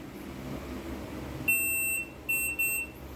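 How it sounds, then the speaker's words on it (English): An electronic shot timer buzzer sounds once for about half a second, then two shorter beeps follow in quick succession, loud and close over quiet background hiss, during a dry-fire pistol drill. "So let's go ahead and start and hear the buzzer."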